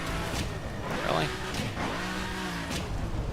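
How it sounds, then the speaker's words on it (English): A car driving close behind the player in the racing game The Crew, its engine droning and rising and falling in pitch under the player's own engine noise, with someone talking over it. "And there's a car behind me."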